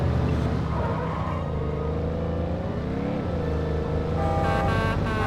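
A car is driven in The Godfather video game, its engine droning loudly and continuously as it revs and shifts pitch up and down, with no talk over it.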